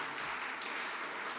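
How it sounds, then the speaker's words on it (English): Audience applause at a Nigerian Excellence Night event in London, a dense, steady wash of many hands clapping heard from within the crowd. "So please give a round of applause to Edo Development Aid"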